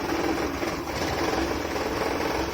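A 1997 Maruti 800 car engine idles with a steady, fast, rattling vibration, close and constant.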